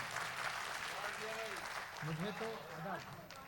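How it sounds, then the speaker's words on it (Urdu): Audience applause at a mushaira poetry gathering, a steady faint patter of clapping heard at a distance, with voices talking over it. "ذرا سا تالیاں بجا کر مجھے اجازت دیجیے"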